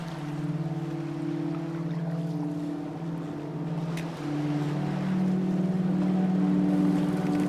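A boat under way near San Sebastian, a steady low engine drone with humming tones that shift slightly in pitch, continuous and fairly quiet with no voices.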